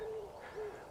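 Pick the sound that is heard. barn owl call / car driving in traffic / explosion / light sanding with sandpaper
barn owl call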